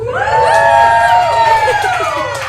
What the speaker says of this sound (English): We got a crowd right now. Everybody make some noise.